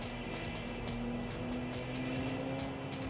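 Racing car engine in the PS2 game Tokyo Xtreme Racer 3, a steady high-revving drone with tire and road noise, held at full throttle and heard alone without commentary, fairly quiet overall.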